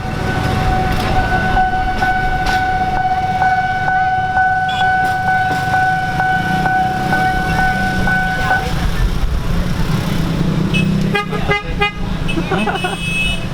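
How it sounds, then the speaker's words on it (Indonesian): A train horn sounds in a long, steady blare for several seconds as the train passes through the middle of a street in Bogor, Indonesia, over loud, rumbling traffic noise, with voices talking nearby. "Keretanya tuh pas banget lewat di tengah jalan."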